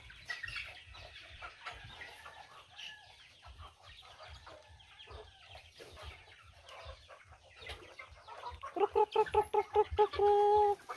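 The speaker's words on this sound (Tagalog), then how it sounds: "update na naman tayo sa mga alagang manok" Chickens cluck and chatter steadily throughout, with a louder burst of rapid, repeated squawking near the end.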